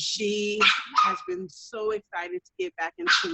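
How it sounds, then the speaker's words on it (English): A pet dog barks and yips in short bursts close by, interrupting someone talking on a group call. "I'm sorry, that's my dog."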